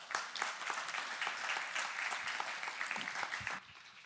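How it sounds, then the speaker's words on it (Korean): A church congregation claps to welcome a speaker, a brief burst of dense applause at a moderate level that stops abruptly. "우리 박수로 환영하도록 하겠습니다"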